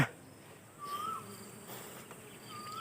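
Dwarf honey bees around their nest make a faint, thin buzzing hum with a couple of brief higher whines as individual insects pass close, in a quiet outdoor setting.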